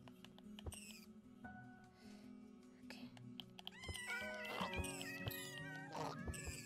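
Several cats in Minecraft VR meow repeatedly, overlapping high mews that grow busier and louder toward the end, with a player's voice talking underneath.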